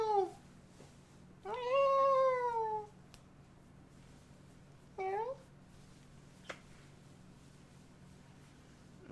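A cat meows loudly twice, a long drawn-out call followed by a shorter one, close by over a low steady room hum, with a faint click near the end.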